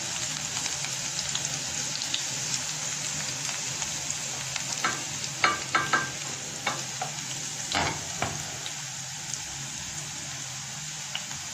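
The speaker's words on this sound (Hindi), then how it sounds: "जब भी कभी लहसुन, अदरक और ग्रीन चिली को फ्राई करते हैं" Garlic, ginger and green chili frying in a pan for dal, a steady close sizzle with occasional sharp clicks of a spoon stirring against the metal, no voices.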